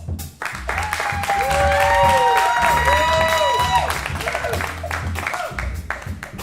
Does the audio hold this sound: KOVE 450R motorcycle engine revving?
no